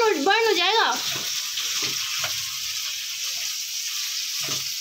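Garlic sizzles in a hot pan while Chinese dishes are cooked, a steady close frying hiss throughout, with a voice talking briefly at the start.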